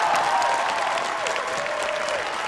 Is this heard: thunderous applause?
yes